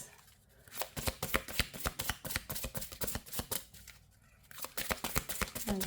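Tarot cards shuffled by hand in close, steady bursts of riffling flicks, pausing briefly twice, with no talking.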